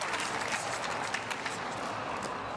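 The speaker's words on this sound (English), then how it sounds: "Crowd appreciative." Steady applause from a packed crowd at a professional pickleball match in Melbourne, dense and continuous throughout with scattered louder claps, filling the whole stretch.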